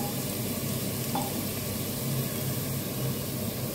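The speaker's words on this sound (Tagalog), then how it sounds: "Ayan, i-light brown natin yung ating sibuyas at bawang." Onion and garlic sizzle steadily in a hot pan as they brown, a continuous close hiss of frying with no talking.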